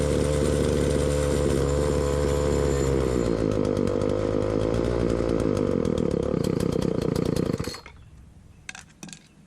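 A walk-behind weed eater trimmer's small gasoline engine runs loud and steady at high revs close by, changing pitch as its fuel and idle screws are adjusted, then cuts off abruptly, leaving faint clicks.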